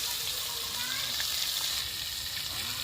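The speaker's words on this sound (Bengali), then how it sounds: "আলুগুলো একসঙ্গে ভালো করে কষিয়ে নেবে" Potatoes sautéing in a pan for a village-style ruhu fish roe and Malabar spinach dish, giving a steady, close hiss of frying throughout with faint stirring, with no voice heard.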